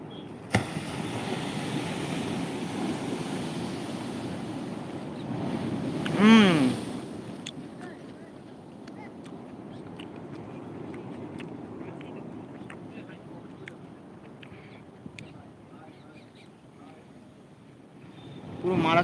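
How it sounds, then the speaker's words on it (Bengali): Heavy sea waves at Shankarpur beach make a steady low roar mixed with wind buffeting, and a voice talks over the surf throughout. "মারাত্মক লেভেলে ঢেউ উঠছে বন্ধুরা"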